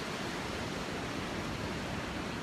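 Sea waves rush in at a beach as a dense, steady broadband wash of surf, filling the whole moment evenly without breaks or voices.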